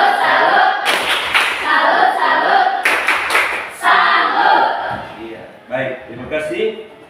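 Classroom audience at St. Yakobus Merauke clapping the rhythmic 'tepuk salut' pattern for Sinta, bursts of claps in patterned groups with chanting voices mixed in, fairly close and loud.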